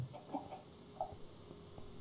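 A chicken in the Minecraft video game gives a few faint, short clucks over a low background hum, with no voices.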